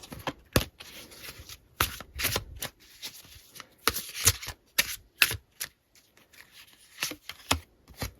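Tarot cards are shuffled and pulled from the deck, with crisp irregular flicks and riffles, bursts of rapid snaps between quieter pauses, close and clear with no talking.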